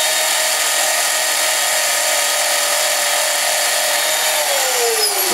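Small engines on a model run with throttles wide open at around 37,500 RPM, giving a loud, steady, high whine. The whine holds level and then slides downward right at the end.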